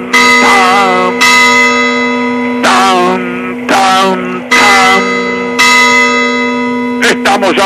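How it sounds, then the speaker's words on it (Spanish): Loud church bells ring out in heavy, overlapping strikes, each clang blooming and decaying before the next, ending in a quick cluster of hits. "Boca sigue, suena las campanas, tan, tan, tan."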